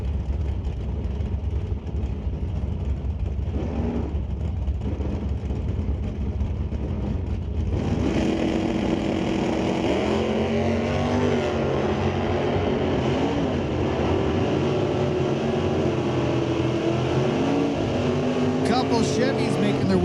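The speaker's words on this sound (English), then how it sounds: "Chevys making their way down the racetrack right now" Chevy drag race cars roar down the strip at a Mission Raceway NHRA Northwest National Open Series event, a continuous loud engine drone that swells sharply midway with rising pitch sweeps as the cars pass, an announcer's voice running over it.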